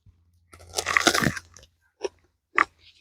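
A raw winter leek pulled fresh from a snowy garden is bitten: one loud, close, crisp crunch with chewing, then two shorter crunchy bites after a pause.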